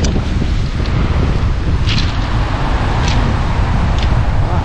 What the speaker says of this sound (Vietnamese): Biển cũng gió cũng không to lắm các bạn, gió cũng vừa.